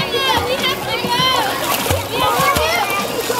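A child splashes while swimming at a summer camp, with busy splashing heard close up as children's voices talk and call over it.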